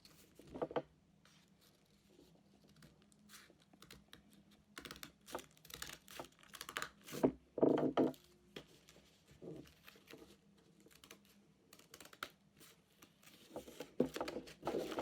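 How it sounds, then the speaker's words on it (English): Scissors cut through paper around the black outline of a paper doll, giving close, quiet, irregular snips and clicks in scattered bursts with short pauses between them. "So you're just cutting around the black line"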